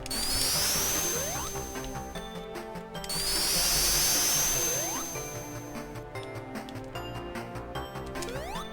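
Spin dash sound effect from a Sonic fan game, a harsh, bright revving swoosh that repeats twice, each burst rising and sustaining loudly over busy game music and sound effects.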